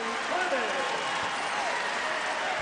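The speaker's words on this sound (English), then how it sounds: "Nice round of applause for Clemmons" Basketball arena crowd at an SIU Salukis versus Wichita State game gives a steady wash of applause and crowd noise, with a distant announcer's voice carrying over the clapping throughout.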